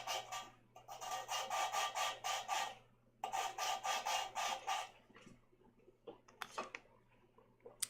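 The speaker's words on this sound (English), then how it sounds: "a really gentle lap on the intake valves because I've disturbed them so much" Engine intake valves are lapped onto their seats by hand, giving rapid, rhythmic gritty rubbing strokes in two bursts of back-and-forth scraping, then softer scattered taps and scrapes, with a faint steady hum underneath.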